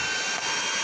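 Commercial passenger jet engine in GTA 5 taxiing into a hangar area, a steady broadband whine and roar with a high tonal hum, continuous and close.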